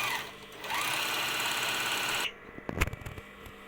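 Overlock machine serging the edges of a flared skirt, a dense close whir running for about two seconds before stopping, followed by a few handling knocks.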